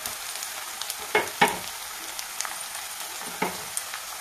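Crushed garlic cloves and onions fry in a pan, giving a steady soft sizzle with a few sharper crackling bursts as the garlic hits the hot oil.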